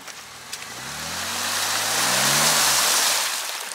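A Jeep Wrangler Rubicon stuck in mud revs its engine, a rising and falling drone with clear harmonic sweeps that builds to a peak mid-clip and then eases off, close and loud, with no voices.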